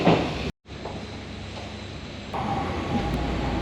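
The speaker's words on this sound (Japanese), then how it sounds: "ホームには急行唐北行きの電車が入線してきましたので、こちらの電車に乗車したいと思います。" An express train pulls in at a Tokyo station platform with a steady rumbling hiss and rail noise that swells slightly partway through, after a brief cut at the start.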